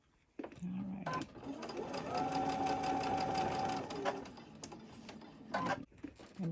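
Sewing machine stitching quilt fabric for a mystery quilt, a steady close whir that runs for several seconds, starting and stopping with brief pauses and small bumps as it pushes through thicker seams.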